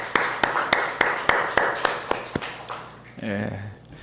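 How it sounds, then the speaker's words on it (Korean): A church congregation gives a round of thankful applause at a Korean worship service, sharp regular claps in a steady beat that thin out before a voice and hum take over at the end. "하나님 앞에 감사의 박수로 영광을 올립시다."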